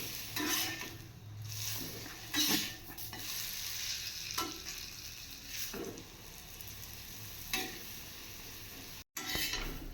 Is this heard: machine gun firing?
no